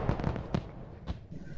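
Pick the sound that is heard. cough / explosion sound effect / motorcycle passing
explosion sound effect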